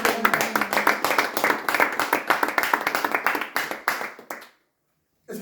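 A church congregation claps in a steady, rhythmic beat, many hands together filling the room, with faint voices mixed in before the clapping stops abruptly near the end and a short silence follows.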